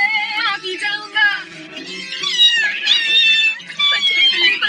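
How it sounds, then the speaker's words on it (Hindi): A cartoon cat in a Doraemon episode meows loudly and repeatedly, in a string of high, wavering, whiny cries close up, with brief gaps between calls. "बच्चे बिल्ली पर हमला कर रहे हैं"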